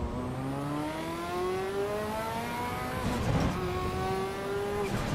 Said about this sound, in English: The sound of this Ferrari, man.